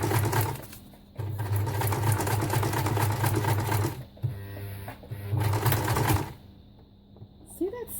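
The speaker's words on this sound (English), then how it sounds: "See that sound my sewing machine's making?" A home sewing machine runs in bursts with an angry, harsh buzzing whir, stopping and restarting several times with brief pauses between runs, close and fairly loud.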